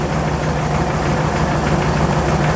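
A vehicle engine idles with its engine cooling fan running, making a loud, steady, close rumbling drone with a low hum and no break or talk.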